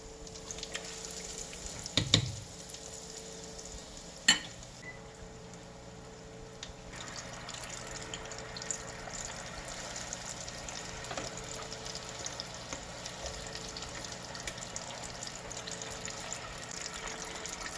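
Scotch eggs frying in hot oil, a steady, quiet crackling sizzle that runs throughout with a couple of faint clinks early on.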